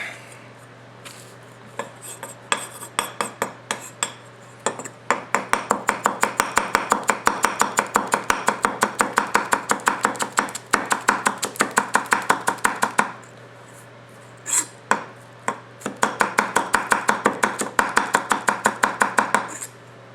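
Rapid, steady chopping and rocking cuts with a hand-hammered nakiri knife on a cutting board, with bursts of quick cuts separated by brief pauses, close and crisp.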